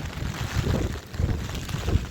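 Low, blustery wind rumbling in gusts against the microphone in open farm fields, continuous with no voices.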